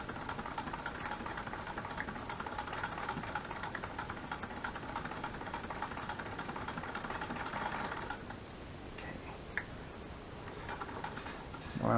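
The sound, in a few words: old hand-crank sewing machine stitching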